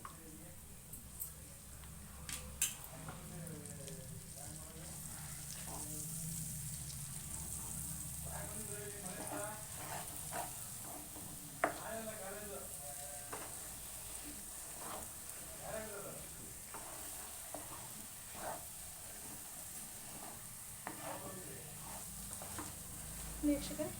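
Ghee sizzles and spatters in a pan as moong dal halwa is stirred, with soft scraping and wet squishing strokes repeating close by, while a person talks over the cooking.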